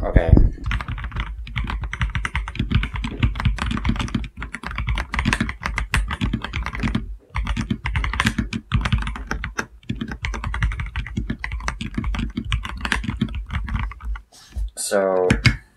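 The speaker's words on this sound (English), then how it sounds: "we've got the Red Dragon clear keyboard, and it's super quiet" Fast, continuous typing on a Redragon clear mechanical keyboard with stock switches gives a close, dense stream of soft clacks with brief pauses. A voice cuts in near the end.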